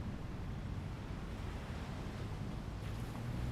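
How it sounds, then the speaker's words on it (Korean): Ocean waves on the shore make a constant roaring wash with a windy, low rumble that stays even from start to finish, with no talking heard. "요즘에는 눈 감고 파도 소리 듣거든"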